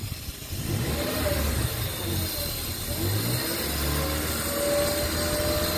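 A stock Honda Odyssey engine fitted with an iForce unit, revved lightly with a steady mid-level hum and a slow rise in pitch, close by with no talking.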